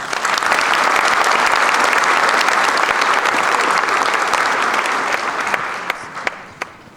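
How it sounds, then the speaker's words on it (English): An audience at a 1954 Milan Miracle celebration gives a sustained round of applause for the 54 Museum board of directors, dense steady clapping that thins to a few scattered claps at the end. "I think the board of directors of the 54 Museum deserve another round of applause"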